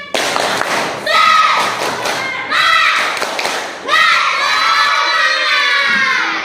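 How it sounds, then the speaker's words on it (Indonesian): A classroom of children do a rhythmic spirit clap chant, shouting together in short bursts over patterned group claps and thumps, loud and close, with brief pauses between phrases. "Tepuk semangat."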